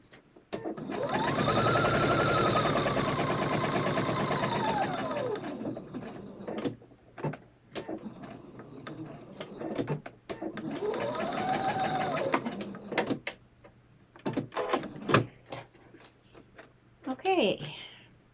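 A sewing machine stitches an old maid quilt block in two long steady runs, each followed by short backstitching bursts and small clicks, up close and loud.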